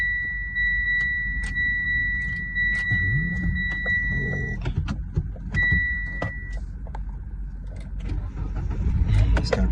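A car with an automatic gearbox shifts from quiet cabin noises, chimes and small clicks to a low engine rumble as it starts, heard close from inside the vehicle with brief voices.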